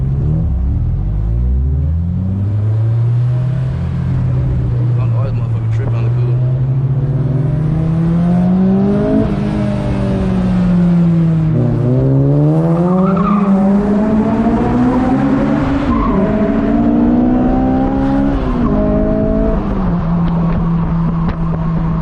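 A V6 car at a car meet revs hard for over twenty seconds, its engine pitch rising and falling in repeated sweeps, with tires skidding and a loud, close rumble throughout and no talk.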